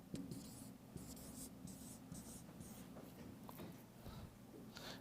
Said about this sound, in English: So let's write that here.